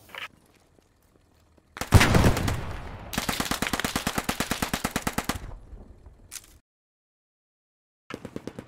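An enemy machine gun fires in a World War II-style war video game, a loud, rapid rhythmic burst lasting several seconds after an initial blast, with a short burst afterward and quiet gaps between.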